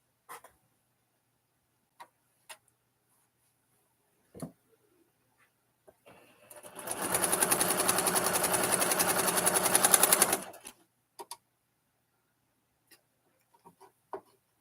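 A sewing machine stitches in a steady, rapid run of about three and a half seconds in a quiet room, bracketed by scattered soft clicks and taps before and after.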